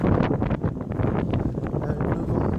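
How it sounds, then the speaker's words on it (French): Wind buffets and roars across a microphone in Brittany, a steady gusty rush with rustling bursts throughout. "Avec le vent qui souffle"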